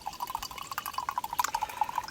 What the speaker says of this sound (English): You just pour that into the yogurt